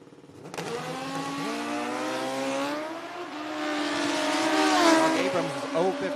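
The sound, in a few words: motorcycle drag racing, Harmon's bike winning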